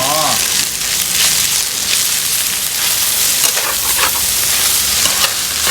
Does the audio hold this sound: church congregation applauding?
no